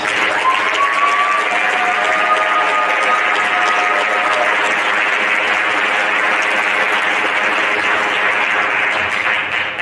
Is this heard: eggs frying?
no